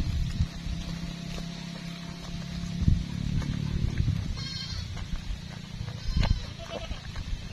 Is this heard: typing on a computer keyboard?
no